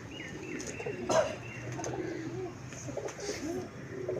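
Teddy pigeons on a rooftop coo softly and repeatedly from close by, with a slightly louder call near the middle over quiet background noise.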